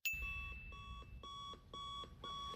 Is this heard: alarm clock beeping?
yes